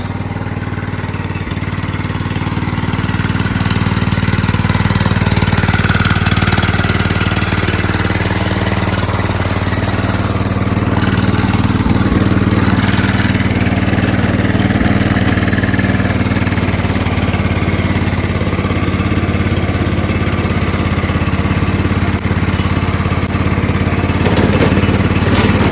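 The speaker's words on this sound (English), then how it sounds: "riding around my John Deere" A John Deere LT160 lawn tractor, repowered with a Kohler engine, runs steadily and loudly for the whole stretch, its close mid-pitched engine drone and mechanical rattle staying constant with no talking.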